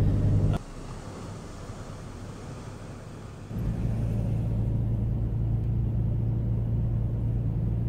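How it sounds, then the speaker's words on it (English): A car driving on a sandy beach at Pismo Beach, California, a steady low engine and tire rumble with wind, which grows noticeably louder and heavier partway through. "we're driving on the beach"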